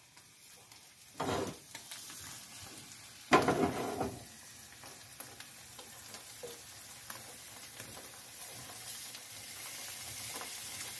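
Salami fries in a pan with a soft, continuous sizzle, broken by a couple of louder crackling bursts near the start, then settling into a quieter steady frying hiss.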